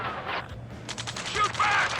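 Gunfire in the Ace Combat 7 video game, rapid bursts of shots in quick succession mixed with battle effects and a voice shouting over them.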